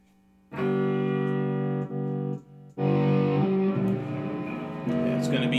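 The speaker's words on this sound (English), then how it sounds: "And now I'll put on some distortion." Heavily distorted electric guitar chords from a Gretsch Streamliner G2215 P90 Jet Club ring out loud and sustained, a few struck chords with brief gaps between them.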